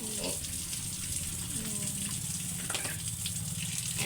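Water runs steadily from a faucet, a continuous rushing gush under faint talk in the background.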